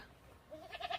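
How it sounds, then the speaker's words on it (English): A goat gives a brief, faint, quavering bleat near the end of a quiet moment. "G for goat."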